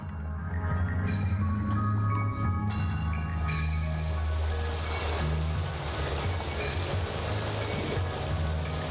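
A waterfall rushes in the central area of the video game Hypnagogia Boundless Dreams, a broad, steady roar of falling water layered with tonal game music, loud and continuous throughout, with no talking.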